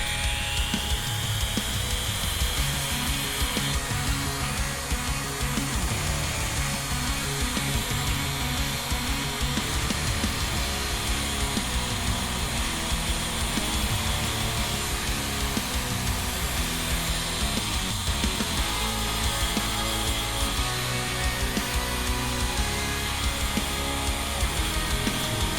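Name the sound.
Dremel rotary tool running at low speed, cleaning nubs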